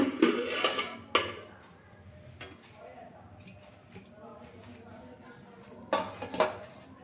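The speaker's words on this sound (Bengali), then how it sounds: "একটা থালা চাপা দিয়ে দিচ্ছি।" A metal plate is set over a pot of biryani as a lid, with clattering metal knocks near the start and again near the end, and quieter handling in between.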